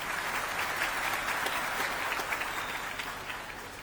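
A crowd at a Muslim political gathering claps steadily, a dense, even wash of applause that fades slightly toward the end.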